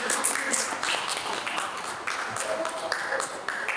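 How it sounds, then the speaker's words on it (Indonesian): An audience applauds speakers at a book discussion event, a steady wash of many hands clapping at moderate distance for several seconds. "Sekali lagi tepuk tangan untuk narasumber kita."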